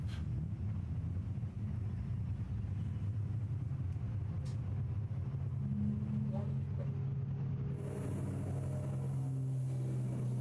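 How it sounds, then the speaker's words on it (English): Race cars bunched behind a safety car on the front straight at VIR during a SARRC/MARRS club race, a low steady engine rumble from a distance with a faint rising pass toward the end. "the safety car now bringing the field on the front straight"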